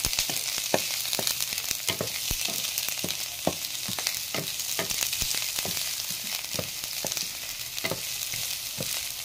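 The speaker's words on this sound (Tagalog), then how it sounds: "Gisa-gisahin muna natin." Sweet potato sautéing in a hot pan, a steady bright sizzle running throughout with repeated sharp clicks and scrapes of a utensil stirring, close and moderately loud, no talking.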